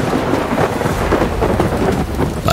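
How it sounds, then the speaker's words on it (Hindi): Rain pours steadily in an audio drama while thunder rumbles low and continuous beneath it, loud and enveloping throughout with no voices. "ठीक उसी वक्त बारिश भी शुरू हुई"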